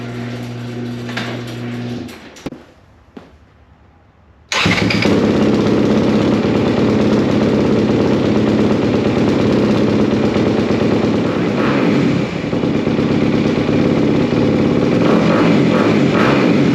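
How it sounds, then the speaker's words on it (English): A 2024 Honda CRF 250RX dirt bike, freshly serviced, is kicked over after a brief pause and its engine catches, roaring loudly and steadily close by, holding a strong continuous idle with slight revving for the rest of the time. "Now it's time to start the bike."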